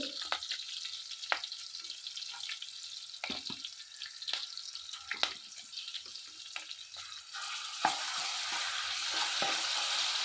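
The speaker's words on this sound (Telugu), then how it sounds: "అల్లం అల్లం వెల్లుల్లి పేస్ట్ వేసుకుందామండి" Ginger garlic paste goes into a hot pan and sizzles, with sharp clattering stirs and spatters over a continuous frying hiss that grows steadier toward the end.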